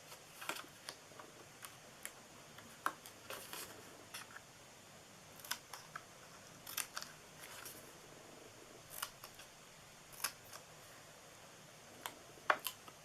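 A cardboard Christmas treat box is cut by hand, producing a scattered series of quiet, sharp snips and clicks at irregular intervals over a faint room background, with no speech.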